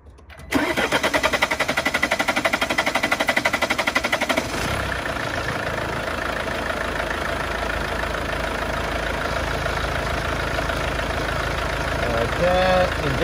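A 2013 Mercedes-Benz C250 CDI diesel engine cranks briefly, catches and settles into a steady, clattering idle, heard up close with no voices.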